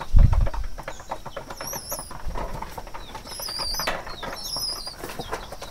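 Pet pigeons at a feeder eating grain and drinking water, soft pecking and pattering with bursts of wing flapping close by, a thump at the start and occasional faint high chirps over light background noise.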